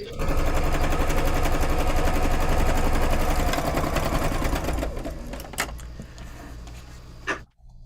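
A sewing machine stitches quilt pieces in a fast, continuous mechanical run, loud and close, then slows and stops with a few brief clicks and handling knocks.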